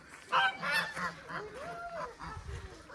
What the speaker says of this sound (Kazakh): Мынандай қаздар, үйректер көп екен.